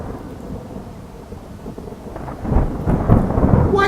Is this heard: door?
no